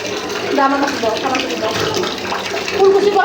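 A small child rinses and swishes water around the mouth after brushing, with splashing tap water running steadily close by and a person talking over it.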